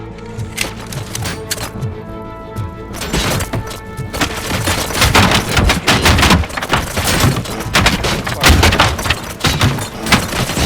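Rapid bursts of gunfire from the Robocop Rogue City video game, dense overlapping shots and thuds building steadily louder across the clip, with sparse game voice lines mixed underneath.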